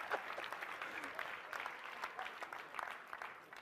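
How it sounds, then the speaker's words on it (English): Audience clapping during a leadership sermon, faint and distant, a soft, continuous patter of many hands with some murmuring, no clear single claps. "Clap."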